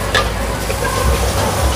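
Steady sizzling and scraping of noodles with egg being stir-fried in a hot wok, a continuous close crackle with the clatter of tossing.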